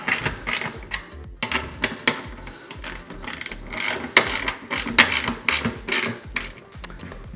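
A ratchet tightens the shave plate bolts on a Troy-Bilt 2410 snow blower, a series of quick, loud clicking bursts in uneven runs separated by short pauses, close to the microphone.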